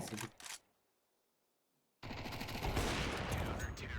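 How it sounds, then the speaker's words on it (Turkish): Gunfire in Counter-Strike 2: a short burst of rapid shots, then near silence, then sustained loud automatic fire with rattling reports close up. "Adam arkadaşını duvardan görüp mü sıktı?"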